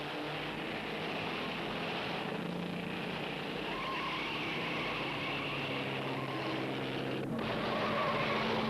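Small 1920s race cars with powerful engines, including Fiats, roar past in a continuous blended drone of engines, steady and moderately distant throughout, with no voices.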